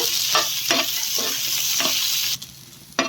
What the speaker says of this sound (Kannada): ಬ್ಯಾಡಗಿ ಮೆಣಸಿನ್ಕಾಯಿ ಹಾಕೋತಾ ಇದ್ದೀನಿ ಸ್ವಲ್ಪ ಹುರಿಯೋದಕ್ಕೆ ಹಾಕ್ತಾ ಇದ್ದೀನಿ